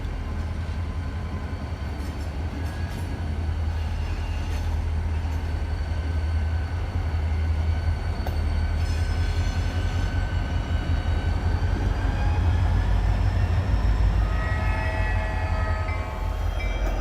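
An HO scale model freight train runs along a layout, a continuous low rumble with a rising whirr of motors and faint horn-like tones, steady and moderately loud throughout.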